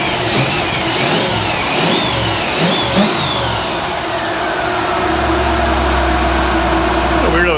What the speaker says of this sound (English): Every time you rev it, it just dumps out a bunch of crap